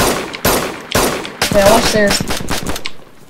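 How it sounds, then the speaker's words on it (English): Rapid gunshots in the survival game DayZ, a series of loud sharp bursts at a steady rhythm, close by, with players talking between and over the shots. "I hear the shots at you, Larkin"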